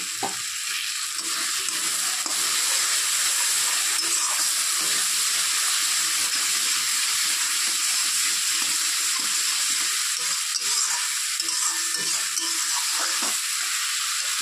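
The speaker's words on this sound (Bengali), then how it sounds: "সমস্ত মশলাটাকে ভালো করে কষিয়ে নিতে হবে।" Spice paste fries and sizzles in a hot pan for a fish curry of katla with teasel gourd, with a steady loud hiss and the scrape of stirring throughout, no voices.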